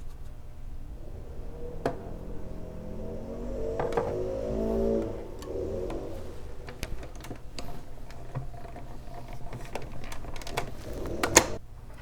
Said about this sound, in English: Let me get my Stampin' Cut and Emboss machine and give that a crank.